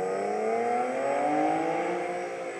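An Infiniti G37 fitted with an HKS HiPower exhaust revs up, giving a close, loud, smooth engine howl with rising tones that holds briefly, then eases off.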